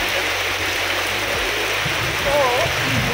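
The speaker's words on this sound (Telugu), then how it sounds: "వర్షం అండి, ఉదయం ఎండ, ఇప్పుడు వర్షం" Heavy rain pours steadily during a roadside stop, a dense wash of patter filling the whole stretch, with a voice faintly present at moments.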